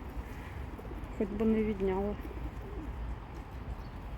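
A pigeon gives a soft, low cooing call outdoors while a person speaks nearby, with faint ambient noise around.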